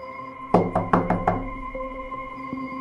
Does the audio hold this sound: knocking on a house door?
yes